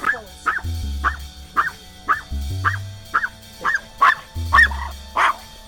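A frightened dog barks repeatedly in quick, loud bursts, about a dozen sharp barks in a row with a low rumble of movement or handling underneath.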